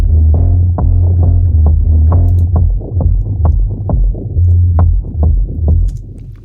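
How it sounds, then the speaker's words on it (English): A heavy, overdriven bass line pumps rhythmically against a steady kick drum, the low notes ducking and swelling with each beat, loud and close. "it's actually sidechained to the kick. This is on the bass channel."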